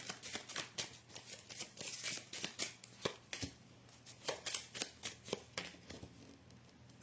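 Oracle cards are shuffled by hand in quick, crisp bursts of riffling and slapping, a rapid irregular rhythm of soft clicks, close and quiet throughout.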